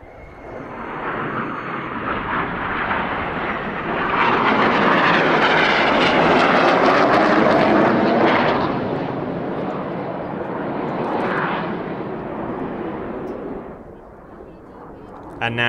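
Red Arrows display jets performing the Detonator manoeuvre at Southport Airshow, a loud broad jet roar that swells to a peak mid-pass and then fades as the formation breaks away.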